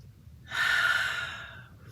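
One slow deep breath, an audible inhale and exhale, close and clear, taken while seated during a no-music chair workout for seniors.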